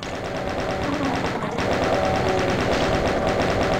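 A chaingun in The Ultimate Doom on level E4M6 fires a steady, rapid stream of shots, loud and close, running without pause.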